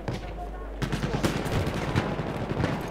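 Dense, rapid gunfire rattles continuously in Battlefield 1, loud and close, with bursts overlapping into a steady barrage.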